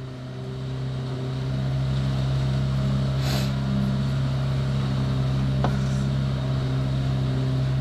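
Steady motor drone of a leaf blower run by street leaf-cleaning workers outdoors, heard from indoors as a constant loud hum that holds for the whole stretch, with a brief whoosh partway through.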